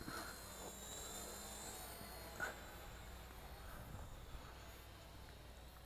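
An Eachine E129 flybarless RC helicopter runs its motors and rotors outdoors, a steady whining hum with thin high tones that holds at a fairly quiet, even level throughout.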